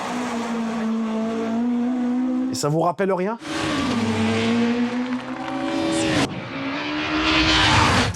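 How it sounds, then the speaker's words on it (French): A Peugeot 406 STW touring race car engine roars loudly and near, with sustained high revving, a sharp burst of gear changes and rising pitch sweeps; a voice speaks briefly over it. "c'est le son moteur que la production va garder"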